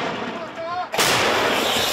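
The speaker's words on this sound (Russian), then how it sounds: "Самоходка работает по выдвигающейся технике противника, корректируется беспилотником." A 2S1 Gvozdika self-propelled howitzer fires once in the Bakhmut area, a sudden loud, close blast that cuts in after a short stretch of quieter ambient noise and rings out broadly.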